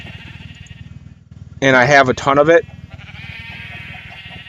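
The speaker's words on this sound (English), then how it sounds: "sheep flock up above us, as you could hear them being really annoying and loud" Sheep in the Minecraft game, modded with Galacticraft, bleat repeatedly in a steady, buzzy rhythm under a man's speech, the flock sounding close and persistent throughout.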